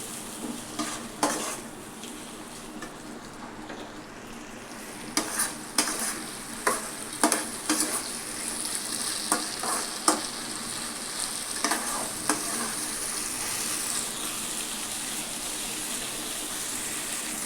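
Potato and pointed gourd masala frying in a pan for a curry, a continuous sizzle broken by repeated close scraping strokes of a spatula, with bursts of stirring throughout.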